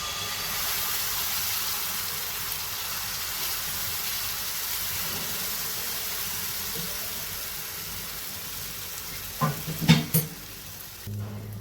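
Mango pancake batter sizzles on a hot pan, a steady, even hiss that runs throughout, with a few short clinks and knocks of utensils near the end.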